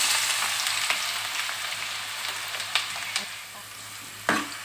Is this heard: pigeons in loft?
no